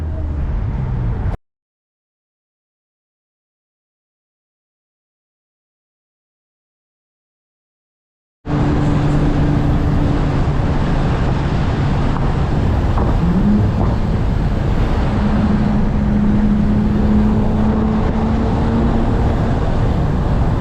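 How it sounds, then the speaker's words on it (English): Infiniti Q50 on a highway at night, heard from inside the car as a steady roar of engine, intake and road noise, after a brief dropout to near silence early on. "Damn, those intakes sounds good."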